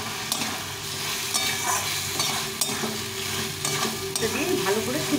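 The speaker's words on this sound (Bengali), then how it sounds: "দিয়ে ভালো করে কষিয়ে নেব" Vegetables sautéed with cooked-down spices in a pan, a continuous close sizzle broken by repeated scraping and clinking of a spoon stirring against the pan, with no voices.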